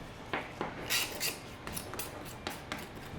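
Small stiff-bladed knife scraping along bison rib bones, a series of short, crisp metallic rasps at irregular intervals, close by and fairly quiet, with no talk.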